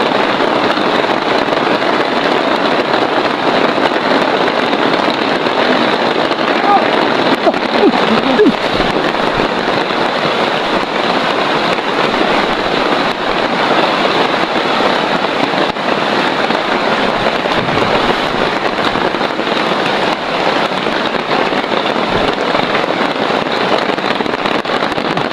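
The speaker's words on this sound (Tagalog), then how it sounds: "Ulan. Malakas." Steady, dense roar of heavy rain pouring without letup, broadband and loud throughout, with no clear pauses.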